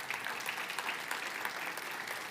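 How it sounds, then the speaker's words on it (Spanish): A church congregation gives steady, sustained applause for the Lord during a Spanish-language service, a dense, even wash of many hands clapping. "Si usted lo cree, déle ese fuerte aplauso al Señor."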